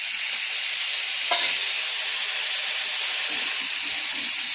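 Amudi fish frying with dried fish (shutki) in a pan, a loud steady close sizzle and hiss running throughout, with a brief stirring scrape early on and no talk.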